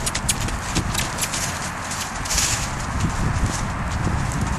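A horse's hooves beat steadily at a canter in an arena during a reining event, a continuous close rhythmic clip-clop with faint background noise and no talking.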